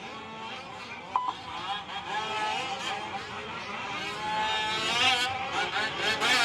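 Fifth-scale RC buggies race around a dirt track in the M14 class A main, their small engines buzzing and whining steadily, rising and falling as they pass, with a race announcer talking over the engine noise throughout.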